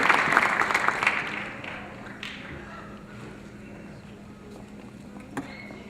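Applause from the audience at a university nursing school pinning ceremony for the graduating class; a broad burst of clapping fades away over the first few seconds into quiet hall ambience, with a faint click later.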